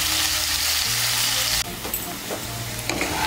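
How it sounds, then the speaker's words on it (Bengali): Loud, close sizzle of potatoes frying in oil in a pan with salt and turmeric for a Bengali potato and soybean curry, continuous crackling with a shift partway as they are stirred. "মিশিয়ে নিয়ে আলুগুলোকে লাল করে ভেজে নেব।"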